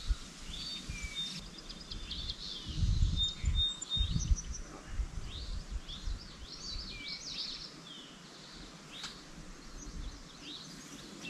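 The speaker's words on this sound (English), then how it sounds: "listen to the birds" Birds chirp and sing in scattered high phrases outdoors at Mount Rogers, Virginia, fairly faint, with some rustling and a louder burst of movement near the start.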